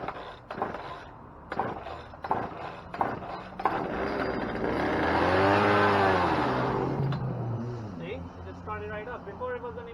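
A small lawnmower engine fires up after being fuelled and primed, its loud buzzing note swelling and holding for several seconds before settling, with a person talking before and after it.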